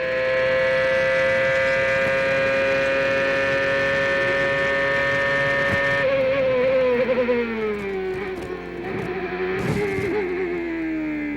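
A Toyota-engined CART race car at 2002 Montreal qualifying, heard on board: a loud, steady high-pitched engine scream holds, then drops in pitch and wavers through quick downshift blips.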